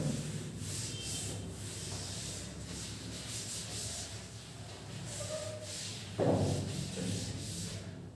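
A physics teacher rubs chalk or marker writing off a classroom board, a steady broadband scrubbing that runs continuously at moderate level, with a brief louder knock near the end.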